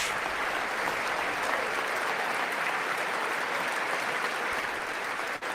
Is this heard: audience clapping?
yes